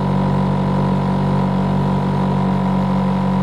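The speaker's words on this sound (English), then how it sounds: "When it gets to around 1500 RPM idling, that's the only time that makes that roof noise, the sunroof noise" A steady, loud, close engine drone from an Acura RSX Type S with Hasport motor mounts, idling near 1500 RPM with strong engine vibration, holding an even level throughout with no voices.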